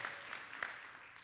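A church congregation applauds during a service, a faint, steady wash of clapping with no single claps standing out, lasting just over a second.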